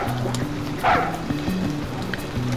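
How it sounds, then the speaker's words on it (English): A dog in the Deus Ex game The Nameless Mod gives a short yip or bark near the middle, set against a droning in-game background hum. "What about this dog?"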